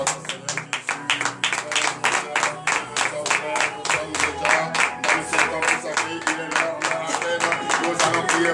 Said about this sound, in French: je vous demande ce matin de donner de vive acclamation à notre Seigneur Jésus.